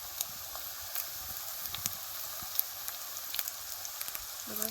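Onions and curry leaves fry in oil for a Maharashtrian dal tadka, a steady soft sizzling hiss with scattered small pops, moderately close and continuous, no talking.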